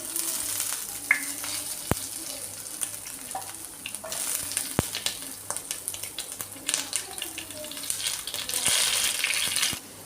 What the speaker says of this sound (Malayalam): വെളിച്ചെണ്ണ ഒഴിച്ച് കൊടുത്ത് നമുക്ക് കടുക് പൊട്ടിച്ച് ഉള്ളിയും കറിവേപ്പിലയും കൂടി ഇട്ട് കൊടുക്കാം